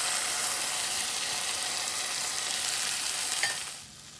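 Tomatoes are added to a masala frying in a pan for a Kerala egg roast, giving a loud, steady, hissing sizzle with stirring scrapes that dies down sharply near the end, with no talking.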